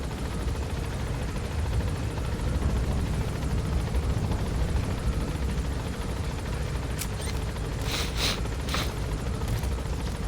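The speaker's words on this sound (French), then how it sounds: "Mais bon, l'hélico qu'on m'a volé, en fait, c'est là." Helicopter in the video game Metal Gear Solid V, a steady broadband rotor and engine drone that holds at an even level throughout, with a few brief sharp bursts near the end.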